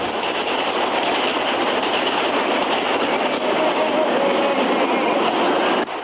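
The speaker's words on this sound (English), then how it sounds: "when an express train goes by" A subway express train roars past close by, a loud, steady rumble and rattle of wheels on track that holds for about six seconds before cutting off abruptly.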